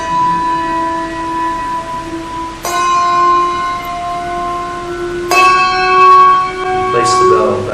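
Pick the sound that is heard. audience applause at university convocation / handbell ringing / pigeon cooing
handbell ringing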